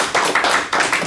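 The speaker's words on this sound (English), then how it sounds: "I applaud you guys." A single person claps their hands, about five close, quick claps in a short, uneven burst. No voices are heard.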